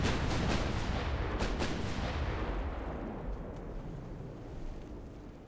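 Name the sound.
naval guns firing at ship, Ultimate Admiral: Dreadnoughts video game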